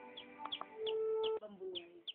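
Colored chicks peep in a rapid series of high, sharp chirps, close and clear, with one longer sustained tone in the middle and a few lower clucking notes mixed in.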